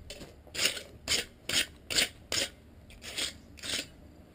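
A wire brush scrapes hot metal during blacksmith forging: eight short, raspy strokes in a steady rhythm, close and fairly loud with no talking.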